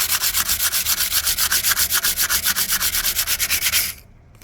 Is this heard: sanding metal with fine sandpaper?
yes